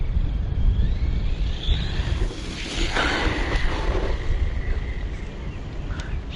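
A Bezgar HP161S 3S brushless RC car runs at full throttle, heard as a continuous rushing roar mixed with wind buffeting on the microphone, steady and fairly loud throughout, with no talk.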